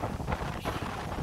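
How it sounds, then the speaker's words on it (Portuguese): Strong wind buffeting the microphone at a fishing spot on open water, a steady rushing roar with no distinct events, moderately loud and without talking. "Olha o vento que a gente escapou"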